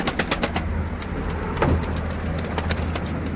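Pigeons in a coop with a newly acquired bird being let inside; soft cooing and wing flutters over a low engine rumble, with a brief louder swell midway.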